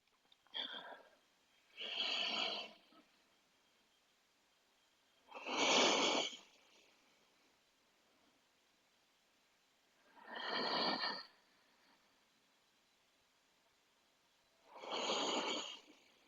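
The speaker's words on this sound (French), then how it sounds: "je viens instaurer de nouveau cette respiration relaxante" Slow, relaxing breaths during a bedtime relaxation exercise, with deep, airy inhales and exhales spaced several seconds apart, close and soft, with quiet pauses between them.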